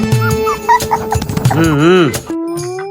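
A dog whimpers and lets out short yips indoors, its thin rising whines mixed with people talking nearby.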